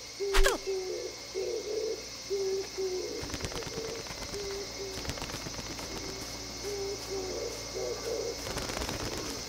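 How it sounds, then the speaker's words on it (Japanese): Pigeons coo in the video game Natsumon! 20th Century Summer Vacation: soft, repeated hooting notes in a steady run, broken by a few sharp clicks and thumps, with no voices. "ハトいる。"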